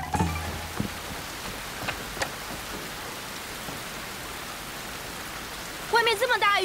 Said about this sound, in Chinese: 外面这么大雨